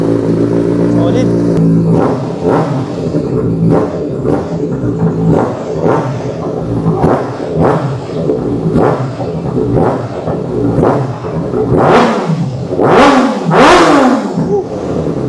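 A motorcycle engine revs loudly through its exhaust in repeated bursts, with the sharpest blips near the end, while someone talks over it.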